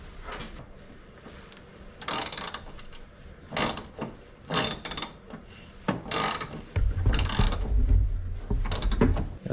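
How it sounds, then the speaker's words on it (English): A ratchet wrench turns a bolt on a 1970 Chevrolet Monte Carlo in a series of loud, close clicking bursts separated by short pauses, with no talking. "Just put that wrench on there, and turn and turn and turn until she gets tight."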